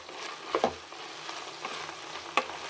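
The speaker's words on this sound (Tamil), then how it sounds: "கொஞ்ச நேரம் நல்லா ஆயிலில் வந்து வேகட்டும்." Okra (about a quarter kilo) frying and being stirred in hot oil for a lunch-box rice dish, giving a soft steady sizzle with a few sharp scraping clinks from the spoon, close and fairly quiet.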